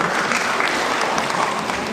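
An audience at an alumni Urdu poetry mushaira in Australia claps loudly and continuously, a close, full roar of applause with no break.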